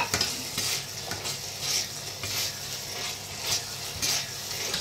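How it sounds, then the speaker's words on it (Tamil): Capsicum being stirred in a frying pan for an Indo-Chinese bread masala, a steady hiss of sizzling with repeated scraping strokes of the spoon at a fairly even rhythm, close and moderately loud, with no talking. "இப்போ நான் கேப்சிகம் போட போறேன் கைஸ். ஸோ இந்த சைனீஸ் டிஷ்னால கேப்சிகம் கண்டிப்பாக வேணும் நம்மளுக்கு. ஓகே. இப்போ நம்ம இதை நல்லா மிக்ஸ் பண்ணிக்கலாம்"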